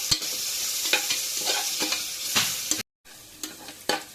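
Chopped tomatoes sizzle and are stirred in a pan for vegetable biryani, a steady frying hiss broken by scraping stir strokes and a brief gap near the end.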